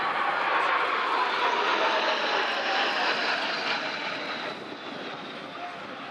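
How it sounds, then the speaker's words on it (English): A jet engine roars loud and close as an aerobatic display jet passes over an air show, holding broad and steady before easing slightly toward the end. "the solo jet would also perform such extraordinary manoeuvres as a fully outside loop"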